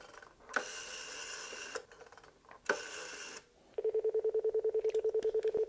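An old French rotary telephone dial whirs and clicks as two numbers are turned and returned, followed by a rapid train of evenly spaced pulse tones, close and clear.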